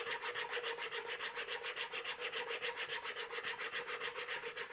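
Leather bag edges are polished by hand after restaining, giving a soft, steady rhythmic rubbing of fast back-and-forth strokes, close and quiet, with no voices.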